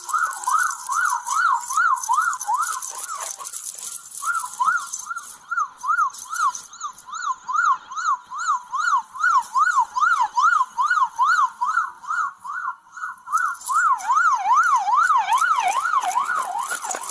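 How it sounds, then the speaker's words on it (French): Emergency vehicle sirens wail steadily with a fast, rapidly warbling yelp, loud and close, running continuously with brief dips and a second siren layered in toward the end. "coupez vos sirènes"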